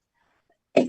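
A single sharp cough near the end, loud and close, breaking a quiet pause in a Quran study discussion, with faint murmuring earlier.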